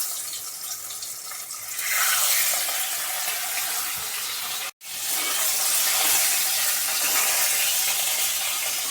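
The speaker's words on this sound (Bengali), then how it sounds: "এবার আমি এই তেলের মধ্যে দিয়ে দেব ভাজার জন্য" A hilsa fish head rubbed with salt and turmeric fries in hot oil, giving a loud, steady sizzling hiss that cuts out briefly once before resuming.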